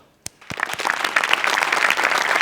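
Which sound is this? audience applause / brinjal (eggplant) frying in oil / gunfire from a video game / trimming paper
audience applause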